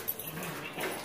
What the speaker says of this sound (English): there's my crazy dogs